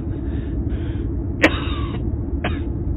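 A man coughs and sputters in the back of a car, a few short harsh bursts over a low, steady rumble of the vehicle.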